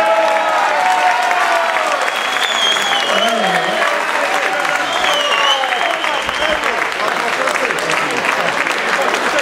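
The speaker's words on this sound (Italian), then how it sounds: "Fatemi sentire un applauso." Crowd applause at an outdoor blues festival, a sustained wash of clapping with some cheering, while whistles and voices rise over it now and then.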